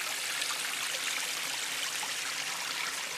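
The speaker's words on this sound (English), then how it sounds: "as you can see, the water is going up here." Water runs steadily into a gold prospecting sluice fed from a tote box, a continuous close rushing and trickling flow with no talk over it.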